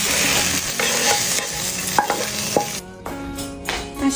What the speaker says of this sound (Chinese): 放胡和姜加肉，翻炒。